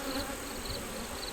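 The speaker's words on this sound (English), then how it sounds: "The bees are starting to fly a lot, but they're not buzzing me." Honey bees hum steadily around an open hive during a beetle inspection, a close, continuous drone of many wings with no talking.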